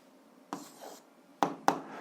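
A pen scratches on paper while a math answer is jotted down: a short stroke, then a pause, then two quick sharp marks close together, nearby and clear.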